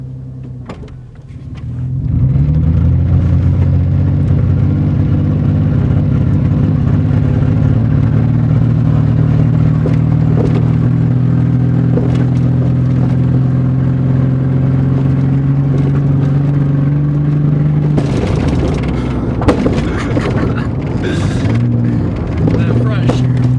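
A car engine idles steadily and loudly up close after starting, with a rise in revs near the end.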